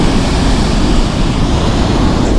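Strong wind and sea waves on a beach at Nha Trang, Vietnam, a loud, dense, steady roar of surf and gusting air buffeting the microphone, with no voices.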